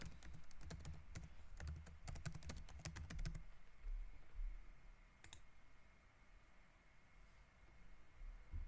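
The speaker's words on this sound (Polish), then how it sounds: "Tutaj wpisujemy cokolwiek." Fingers type on a computer keyboard in a quick run of close clicks for about three seconds, followed by a single later keystroke in a quiet room.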